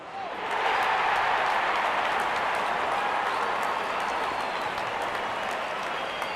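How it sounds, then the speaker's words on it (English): A cricket crowd cheers and applauds as the opening batsmen walk out to the middle, a steady, dense wash of roaring and clapping that swells in and holds at full level throughout. "Openers walking in and the crowd cheering in anticipation."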